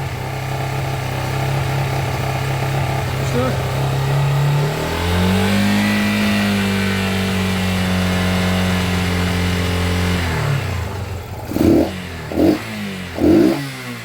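Yamaha YZF Thunderace motorcycle engine running close by with a rough, uneven note, the pitch rising as it revs and dropping back, then a few short stuttering bursts near the end as it misfires.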